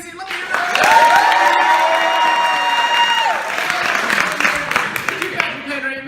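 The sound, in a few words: audience applause and cheering for Patrick Henry's improv scene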